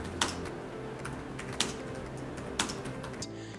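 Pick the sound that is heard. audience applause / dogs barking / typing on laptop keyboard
typing on laptop keyboard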